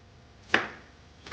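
A knife cuts through two large ripe tomatoes on a board in two sharp, separate chops, with a quiet pause between them.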